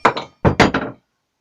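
A box wrench knocking against a workpiece during woodworking on an oak chisel handle: four sharp close knocks, one then a quick group of three, followed by silence.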